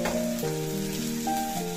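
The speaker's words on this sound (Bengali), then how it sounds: "এবার আমি এর মধ্যে দেব 1 চামচ আদা বাটা" Ginger paste dropped into browned fried onions sizzles steadily in a pan, a close, continuous frying hiss with faint tonal hum throughout, no speech.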